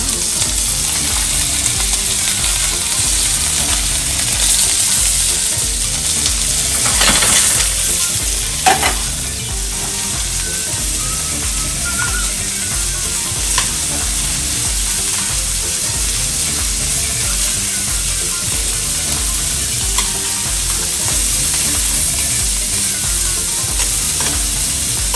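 Sturgeon sears in a hot pan for a seafood cioppino, giving a loud, continuous sizzle and spatter throughout. Occasional scraping stirs and brief crackles rise above it, with no talking.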